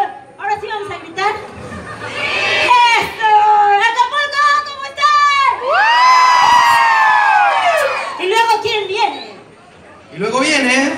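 A convention crowd at a comics event in Acapulco shouts, screams and cheers in loud rising waves, with excited voices and laughter swelling and falling close by.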